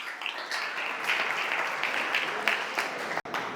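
A church congregation claps for Jesus during a worship service, sustained lively applause with a few louder peaks before a brief cut near the end.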